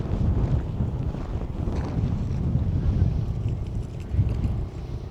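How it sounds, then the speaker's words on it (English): Stiff desert headwind buffets the microphone, a continuous low rumbling roar with gusty surges that stays loud and close throughout. "this is a pretty stiff headwind in the direction that I'm going"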